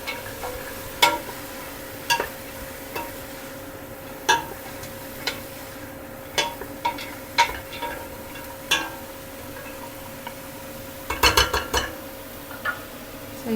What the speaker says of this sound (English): So I'm going to give that a little stir